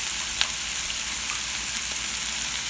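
Yellow zucchini cooking slowly in a pan, giving a steady, close, even sizzle with a few faint pops and no voices.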